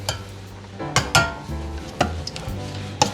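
A spoon stirs crushed tomato pizza sauce in a pot with soft, wet scraping and a few sharper knocks against the pot, close by and fairly quiet.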